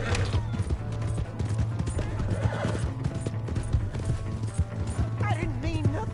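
Horse hooves clip-clopping in the Red Dead Redemption 2 video game, a steady rhythmic trot with a horse whinnying and voices and game music over it.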